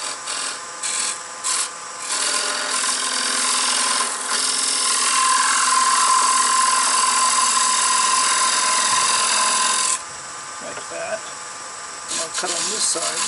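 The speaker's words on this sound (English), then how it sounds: "I'm going to go ahead and use a thin parting tool, and this will be the insides of these two wheels." A thin parting tool cuts into wooden toy wheels spinning on a lathe, giving a steady rasping scrape of several seconds that stops and starts between short pauses.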